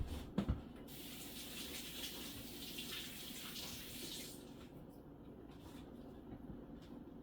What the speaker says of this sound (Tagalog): hugas mo na ako ng kamay